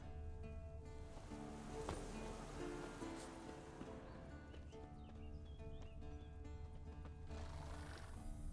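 A horse whinnies in Witcher 3: Wild Hunt, with hoof clip-clops and faint ambient game sound beneath, all quiet and fairly distant.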